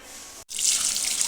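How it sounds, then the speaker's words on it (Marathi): Water from cooked toor dal, pressure-cooked with four or five whistles, draining through a sieve for puran poli; a steady, close splashing stream, briefly cut off, then running louder and fuller. "चाळणीमध्ये वरतून घेतलेली आहे डाळ याचं सर्व पाणी खाली नितळलं"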